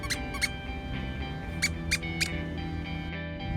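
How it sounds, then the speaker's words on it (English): A squeaky toy is squeezed for a small chihuahua, giving several short, bright squeaks in separate bursts over a steady low background hum, close and clear with no talking. "After the softball, I used the squeaky toy."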